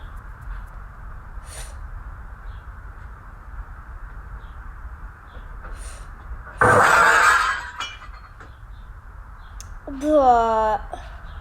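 A brand new window's glass breaks in one sudden loud shattering crash midway through otherwise quiet background, followed later by a short rising squeal.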